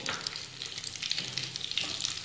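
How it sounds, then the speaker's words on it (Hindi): Semolina frying in hot ghee for suji halwa, a steady soft sizzle with faint stirring scrapes throughout, quiet and close. "और सूजी को अच्छे से घी में फ्राई करेंगे"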